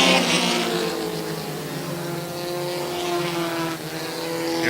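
Race cars roar steadily around a track during an Airborne Racing event, a loud continuous engine drone with shifting harmonic pitch, nearby cars passing close together late in the race.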